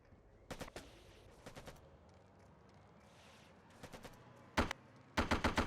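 Short bursts of gunfire in the Operation Flashpoint military game, scattered early and then sharper and louder near the end, with rapid machine-gun volleys closing out the stretch over a low ambient rumble.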